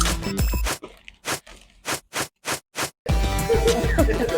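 Crunchy Indramayu cow-skin crackers (kerupuk kulit sapi), seasoned with coriander, being eaten: a run of loud, sharp crunching bites close to the mic, then a burst of dense crackling chewing, heard alone without talk.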